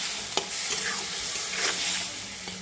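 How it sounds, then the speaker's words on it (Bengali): Vegetables and fried rohu fish with radish cooking in a pan with ground ginger, cumin, chilli, salt and turmeric, giving a loud, steady sizzle with scraping stirs of the spatula and a few soft knocks. "এই যে সবজিগুলো ভালো করে মশলা দিয়ে কষিয়ে নেওয়া হয়ে গেছে"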